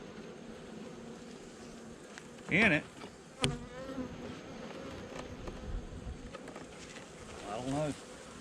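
Bees buzz around a hive, with individual insects droning past close by in short rising and falling bursts over a quiet background, and a brief spoken phrase in between.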